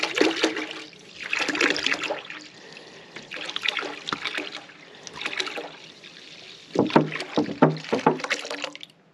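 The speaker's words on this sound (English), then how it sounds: "Then I want to go ahead and put the water in." Distilled water glugs out of a gallon jug into the tank of a 10-liter ultrasonic cleaner in several bursts of splashing pour, close and loud, with short pauses between pours.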